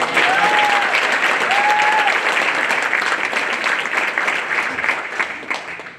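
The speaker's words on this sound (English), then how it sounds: "So let's give him a round of applause." Loud, dense applause from the audience at the 2025 Louisiana Students of the Year awards ceremony, with a couple of whistles early on, holding strong before gradually thinning toward the end.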